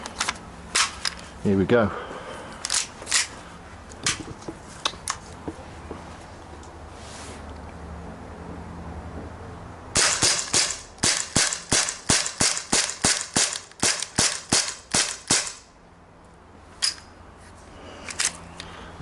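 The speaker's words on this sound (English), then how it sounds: "we're going to go for full mag, fullish mag, fresh gas, 10 feet, rapid fire" HK USP CO2 air pistol fired on a fresh gas charge at 10 feet: scattered sharp cracking shots, then a fast rapid-fire string of about fifteen loud pops, with a voice speaking briefly at the start.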